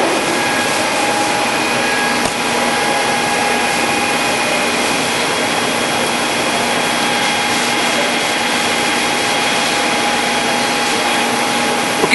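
A large American hardway lathe, 21.5 by 102 inches, running at 300 RPM, giving a loud, steady broadband whir with a faint tonal hum that holds unchanged throughout, with no talk.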